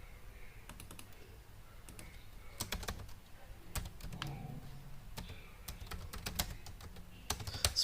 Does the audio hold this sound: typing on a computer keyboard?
yes